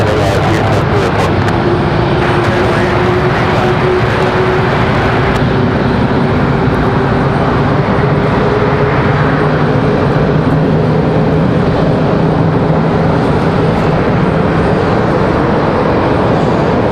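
An Aeromexico Embraer E190 jet at Raleigh Durham airport gives a loud, sustained engine whine and rumble with a slowly shifting tone, while a voice talks intermittently over it.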